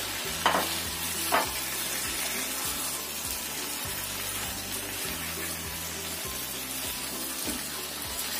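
Eggplant balado being stirred quickly in a pan, a steady frying sizzle with two sharper spoon scrapes near the start and low rhythmic pulses throughout, close and moderately loud with no talking.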